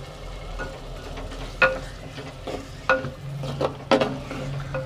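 Whole garlic and spices fry in a pot for a spicy sea crab handi, a soft sizzle under occasional stirring scrapes and light clinks of a spoon against the pot.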